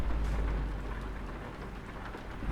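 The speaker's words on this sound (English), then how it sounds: "it's raining" Steady rain patters on a car in Poland, a dense, continuous wash of drops with low rumbling underneath, close and fairly even throughout with no talking.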